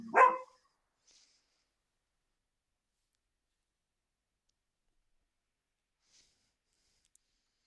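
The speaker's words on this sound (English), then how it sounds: "my dog is going crazy" A dog gives a single short, loud bark at the very start, close to the microphone, then near silence follows with only a couple of tiny clicks.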